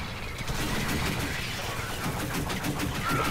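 Continuous rapid gunfire in the top-down shooter Alien Swarm, a steady dense stream of shots at moderate level with no pauses.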